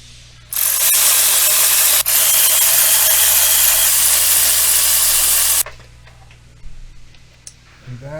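A wrench ratchets in one long continuous burst while snugging spark plugs on a Genesis V6 engine, loud and close for about five seconds, then stops, leaving faint clicks and handling noise.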